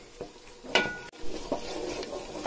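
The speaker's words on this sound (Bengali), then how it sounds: "তারপরে এখানে গোটা রসুন, তেজপাতা, দারচিনি এগুলো দিয়ে দেব। দিয়ে কিছুক্ষণ কষাবো।" Whole garlic, bay leaf and cinnamon get stir-fried in oil for mango pickle, with short scrapes and clinks of a spatula against the pan over a soft sizzle, close by and moderately quiet.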